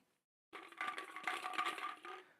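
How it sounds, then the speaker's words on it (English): Numbered balls shuffled in a bowl for a reverse grid draw, a close, quiet rattling and clacking lasting about two seconds after brief silence, with no talk. "I'll close my eyes, shuffle the balls, and I will draw 2 balls out of the bowl"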